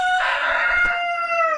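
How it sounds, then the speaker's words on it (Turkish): Close, loud rooster crow from a rural backyard flock, one sustained strained call carrying over farm chicken clucks, with no talk over it. "Bakın bu da çok güzel bir tavuk."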